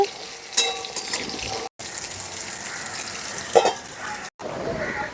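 Vegetables, pointed gourd (potol) among them, fry in oil for a mixed vegetable paneer curry, making a continuous close sizzle and hiss with brief spatters and two short breaks.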